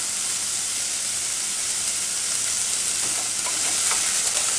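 Vegetables for chilli con carne sizzle loudly in hot oil, a dense close hiss with faint scrapes of stirring toward the end.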